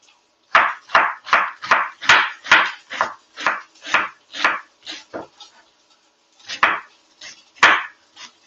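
A knife chops through pork for schnitzel on a board, landing about a dozen sharp, close strikes in quick rhythm, then a short pause and a few more cuts, with no talk.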